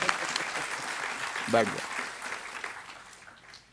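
An audience at a religious discourse claps steadily throughout, a dense patter of applause that fades toward the end, with a brief spoken phrase over it.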